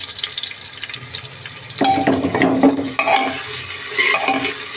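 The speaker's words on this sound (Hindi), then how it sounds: "इसको हम तब तक फ्राई करेंगे जब तक कि प्याज का रंग बदल ना जाए" Chopped onions being stirred and fried in a pan for khichdi, a steady close sizzle with scraping stir sounds and some watery splashing, no voices.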